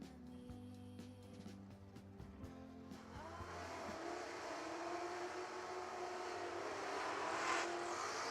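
Drag race cars rolling in at National Trail raceway, with a steady rising engine drone and a broad roar that builds over several seconds, set against the surrounding track ambience.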